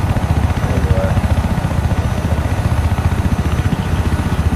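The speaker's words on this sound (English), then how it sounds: "now I'm going way up in the sky, and you're gonna dive down and land in Daniel's chopper" Helicopter rotor and engine drone in a video game, a steady loud thrumming with rhythmic low-end beating that holds throughout without talk.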